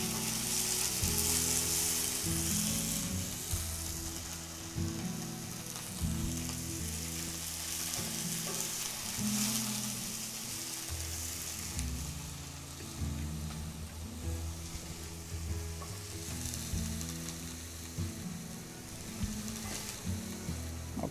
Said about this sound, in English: You want to hear those onions sizzle.